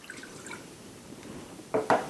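Water is poured for a sweet chili wing sauce, a few faint drips early on, then two short, louder splashing glugs near the end, close by with no talking.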